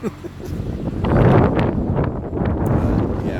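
Gusty wind buffets the microphone with a steady low rumble that swells and eases, with faint voices under it.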